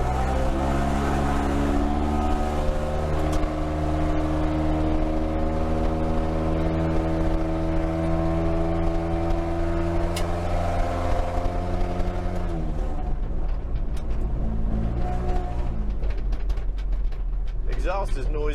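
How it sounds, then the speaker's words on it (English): A truck engine under heavy throttle on a gravel road, its noisy exhaust droning loudly and steadily with strong harmonic tones, then shifting and easing off near the end. "Exhaust is noisy, but that was actually a good bit of throttle, and she acted all right."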